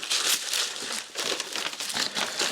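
Plastic packaging around a set of motorcycle radiator guards being unwrapped, giving steady close crinkling and rustling bursts that run throughout, with no talking.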